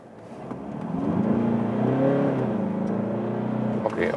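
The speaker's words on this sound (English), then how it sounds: "Of course the diesel doesn't have the greatest sound, but you know, if you want the best accelerating engine" A Citroen DS4 diesel, the HDi180 with automatic gearbox, accelerating from a standstill to about 50, heard from inside as a steady droning engine note that swells and rises in pitch, dips briefly at a shift, then climbs again.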